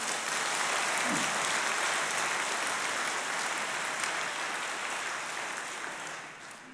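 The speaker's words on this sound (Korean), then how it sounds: "박수 한번 부탁합니다" Broad, continuous applause from a sermon audience rolls on evenly for several seconds, slightly distant, and gradually fades toward the end.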